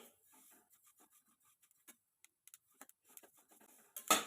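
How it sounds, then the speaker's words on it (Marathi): Sesame seeds roasting in a dry pan over low heat give off faint, scattered crackles and small pops, irregular and sparse at first, then a louder burst of crackling near the end; no voices. "बघा तिळाचा खूप चटचट चटचट आवाज येत आहे असा"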